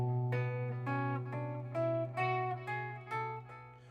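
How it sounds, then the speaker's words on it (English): A bass plays a short melodic line in B Dorian, with distinct plucked notes over a sustained low tone, moderately quiet and alone. "That's the sound of B Dorian"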